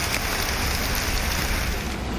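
Heavy rain pours down in a steady, dense hiss that does not let up, close and fairly loud, with no voices.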